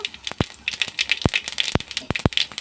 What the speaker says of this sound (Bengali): প্রথমে তেল গরম হয়ে গেছে, প্রথমে আমি 5 ফোড়ন দিয়ে দেবো